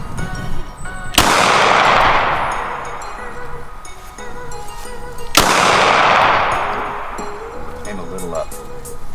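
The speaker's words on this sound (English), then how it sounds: "It's shooting low. I'm gonna shoot above it." Two loud pistol gunshots fired at a target in an outdoor pistol poker shoot, each a sharp crack with a long ringing decay, spaced about four seconds apart, with people talking in between.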